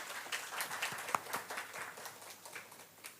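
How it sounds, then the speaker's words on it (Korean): A congregation gives a quiet, welcoming round of applause during a Sunday service at a Korean Presbyterian church in Maryland, with distinct claps rising and falling over a few seconds. "오랜만에 환영의 박수 한번 드리겠습니다"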